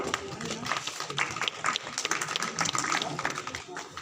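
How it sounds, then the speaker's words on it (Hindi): A crowd claps continuously at a welcoming ceremony during a village legal aid camp in Kamalpur, a loud, even patter of many hands mixed with crowd murmur. "आप लोग तालियां बजाते रहिए।"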